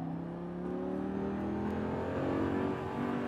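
Exotic sports car accelerating on a race track, heard from inside as a steady engine note climbing in pitch over three seconds, loud and continuous with road and wind rumble underneath.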